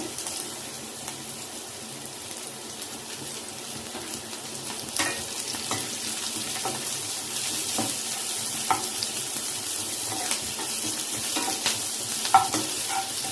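Curry leaves frying in a pan, heard as a steady, moderate sizzle and crackle with scattered sharp pops and occasional stirring clicks, close by with no talk.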